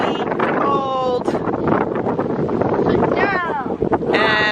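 Cold wind gusts steadily over an open boat on the water, a constant rushing roar buffeting the microphone while people talk over it throughout.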